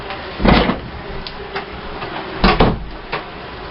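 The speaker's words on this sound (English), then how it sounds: "I'm going to shut the door right now." A door is shut indoors at a craft table, giving a few close knocks and thumps with some rattling between them and no talking.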